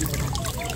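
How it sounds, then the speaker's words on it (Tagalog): Water trickles and splashes continuously as rice is washed at a riverside camp. The sound is close and steady throughout the short moment. "Dito na tayo linis ng bigas."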